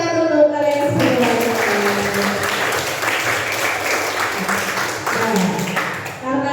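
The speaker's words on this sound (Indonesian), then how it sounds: "Tepuk tangan untuk kalian semua" A classroom of students claps together in sustained applause during a lesson, dense and steady throughout, with a teacher's voice mixed in.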